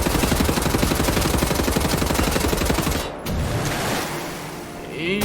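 Rapid automatic gunfire in the video game Wolfenstein: The New Order, a loud sustained burst of fast repeating shots that stops abruptly, followed by quieter game ambience.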